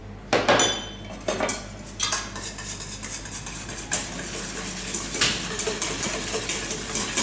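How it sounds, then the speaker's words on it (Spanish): Eggs and sugar are beaten in a bowl by hand, giving quiet, steady clinking and scraping of a utensil against the bowl, with a few sharper knocks near the start. "simplemente que esté batido, que esté el huevo roto y bien mezclado con el azúcar."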